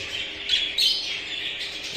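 A rainbow lorikeet squawks in harsh, shrill bursts, close and loud, two calls standing out above a steady background.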